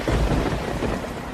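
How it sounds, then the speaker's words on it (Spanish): A loud, steady thunderstorm roars without a break, with rumbling thunder layered over heavy, hissing rain, set during the storms of the dinosaur extinction. "En todo el mundo, tormentas letales matan sin piedad."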